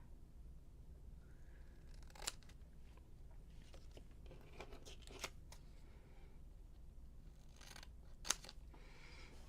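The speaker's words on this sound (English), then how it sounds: "I'm gonna just cut these in half with my big scissors." Big scissors cutting paper, a few sharp isolated snips scattered among quiet rustling and handling noise, faint and close, with no voices.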